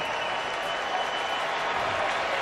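A sold-out crowd at a Cubs baseball game applauding, a steady wash of clapping and crowd noise that holds evenly throughout the whole stretch.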